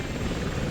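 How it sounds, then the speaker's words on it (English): Attack helicopters in the video game Destroy All Humans give off a loud, steady rotor and engine roar that fills the short moment with no break. "Attack helicopters approaching!"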